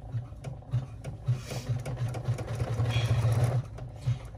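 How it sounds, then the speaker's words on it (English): An embroidery machine stitches a pleat marker on a 3D bag in the hoop, making a rapid rhythmic needle chatter in short bursts and then a longer continuous run, close and fairly loud. "then we're going to run our first pleat marker."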